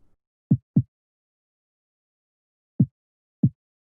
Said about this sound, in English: these tom sounds, and it sounds like this.